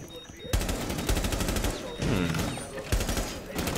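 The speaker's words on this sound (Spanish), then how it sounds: "de momento estos son tiros sin controlar" Automatic rifle fire in the video game Rainbow Six Siege comes in loud, rapid bursts of rattling shots, repeated several times with short pauses between them.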